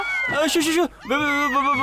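A cat meows in a drawn-out, wavering call, pausing briefly and then meowing again, loud and close, with voices talking around it.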